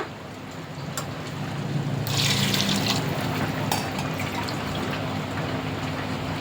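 Water poured from a glass into a pot for Andhra-style donne biryani that already holds some water, a steady rushing, splashing pour that swells in the middle of the clip, then settles into an even trickle.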